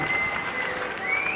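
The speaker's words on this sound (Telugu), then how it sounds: "గట్టిగా చప్పట్లు కొట్టి అభినందించండి." A brief burst of continuous audience clapping at the launch of a handloom weavers' welfare scheme in Chirala, dense and steady from start to finish.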